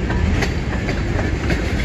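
Train rolling past a railfanning spot in Emmett, Michigan, loud and close, with steady broadband rumble and rhythmic clickety-clack of wheels over rail joints throughout.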